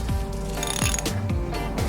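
A ratchet works loose the drain bolt on a Ford Super Duty truck's rear differential. Quick, evenly spaced clicks sound close and fairly quiet, with no voices.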